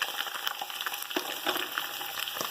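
Crumbled seasoned taco meat and salsa frying in a preheated pan with three tablespoons of oil, a steady close sizzle with bubbling pops and occasional stirring scrapes, no talking.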